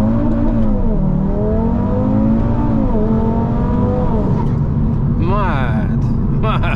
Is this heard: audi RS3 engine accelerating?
yes